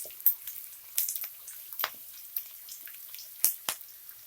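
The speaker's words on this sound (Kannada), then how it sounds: "ಚೆನ್ನಾಗಿ ಫ್ರೈ ಮಾಡ್ಕೊಬೇಕು ಶುಂಠಿ, ಬೆಳ್ಳುಳ್ಳಿ ಮತ್ತು ಹಸಿಮೆಣಸಿನ್ಕಾಯಿನ" Ginger, garlic and green chillies frying in a pan, with scattered sharp crackles and spits of sizzling oil popping irregularly over a quiet background, close and moderately loud.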